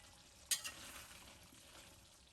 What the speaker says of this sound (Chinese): 这时候先将食材均匀的翻炒一下